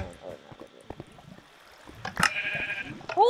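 A sheep bleats in the Minecraft video game, one clear wavering bleat near the end of the clip over game sounds and clicks.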